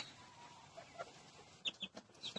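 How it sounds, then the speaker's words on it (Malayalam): Soft, short clucks and chirps of three-month-old Gramapriya and native country chickens scattered over quiet background noise, a few birds nearby calling irregularly. "ഇതിനകത്ത് ഗ്രാമപ്രിയ കോഴികളും നാടൻ കോഴികളും ഉണ്ട്"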